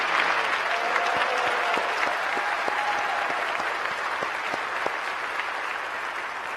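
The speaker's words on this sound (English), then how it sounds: "let's give them a round of applause" Steady audience applause for firefighters at a city's State of the Address event, a dense continuous wash of many hands clapping with a few sharper claps standing out, filling the room at even loudness throughout.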